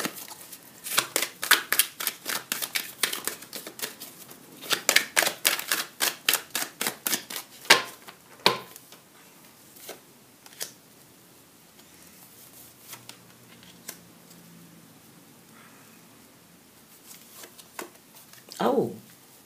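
Tarot cards shuffled by hand in quick riffling bursts, close, crisp and rhythmic through the first half, then tapering into sparse taps and a soft rustle near the end.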